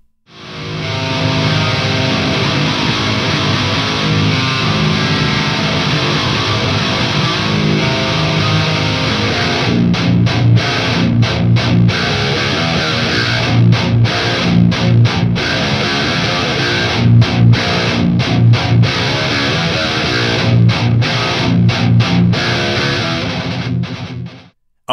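Dense, heavily distorted electric guitar played through a BluGuitar Amp1 Iridium amplifier into a York MES-212 cabinet, loud and continuous with chugging rhythmic chords and short stops later on, no talking.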